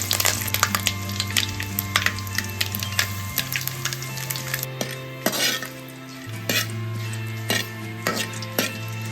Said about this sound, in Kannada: ಎಣ್ಣೆ ಬಿಸಿ ಆದ ನಂತರ ಜೀರಿಗೆ, ಸಾಸಿವೆ ಮತ್ತು ಕರಿಬೇವಿನ ಎಲೆಯನ್ನು ಹಾಕ್ಕೊಳ್ತಾ ಇದ್ದೀನಿ.